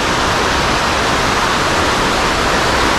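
A deserted waterfall on Biliran Island in the Philippines roars in a steady, loud, broadband rush of falling water that holds constant throughout, with no voices.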